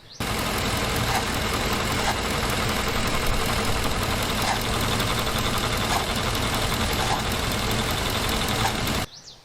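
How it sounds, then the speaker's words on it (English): A car engine runs steadily up close with a rough, uneven, sporadic grinding rattle throughout, then cuts off abruptly near the end. "I had the engine running and I noticed a noise, like a grinding noise"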